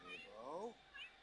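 A pet cat meows in The Sims 3 video game, one drawn-out meow followed by a shorter second one, faint and close.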